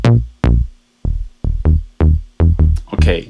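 Punchy FM synth bass recreating the classic Yamaha TX81Z LatelyBass patch on the BLEASS Omega plugin, a run of short plucked notes with fast decays in a bouncy rhythm, loud and dry with no voice.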